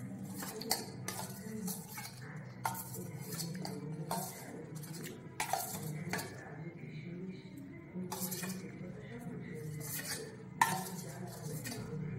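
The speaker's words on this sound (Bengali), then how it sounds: "আবারও ভালো করে মিশিয়ে নেব।" Spoon stirring plum cake batter with orange-juice-soaked dry fruits in a bowl, a steady run of scraping and clinking strokes with occasional sharper clinks against the bowl's side, no talking.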